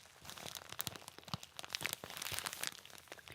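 Fire crackles and pops close by, with irregular sharp snaps and crunchy bursts scattered over a faint background, quiet overall.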